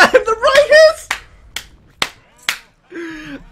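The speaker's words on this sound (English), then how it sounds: "I'm just clapping my hands." A commentator at an esports match claps his hands a few times, four sharp, separate claps spaced about half a second apart, close and fairly loud, right after a stretch of excited talking.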